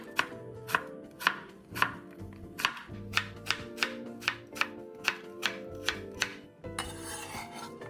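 A knife chops a red apple into thin strips on a cutting board, with a quick, regular series of crisp thuds and cuts. The close strokes come evenly about twice a second, and a scraping sweep follows at the end.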